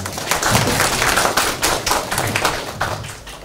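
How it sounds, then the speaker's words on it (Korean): At a regional education office meeting in Hamyang, South Korea, an audience claps to welcome the next presenter. The claps come as separate loud, sharp hits rather than a smooth roar, and they thin out toward the end. "큰 박수로 맞아주시기 바랍니다"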